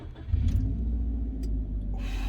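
A new car with bucket seats starts up, and a fairly quiet engine rumble builds and then holds a steady, smooth idle close by.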